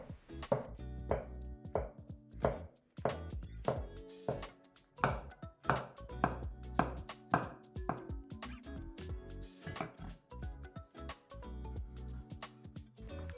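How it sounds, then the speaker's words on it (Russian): A knife chops mushrooms finely against a cutting board, crisp uneven taps in quick bursts with brief pauses between runs. "оставшиеся грибы нарезаем мелким кубиком или просто измельчаем мелко при помощи"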